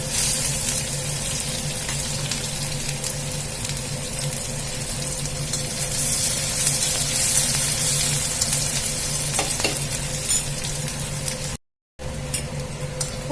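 Chopped onions frying in a pan with a pinch of asafoetida for aloo methi curry, a steady close sizzle with faint stirring scrapes, briefly cut out near the end.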